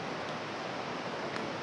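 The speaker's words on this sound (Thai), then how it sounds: "เสียงน้ำไหล" Water flowing inside a large cave in Laos, a steady broadband rush like running water, dense and unbroken, with no voices over it.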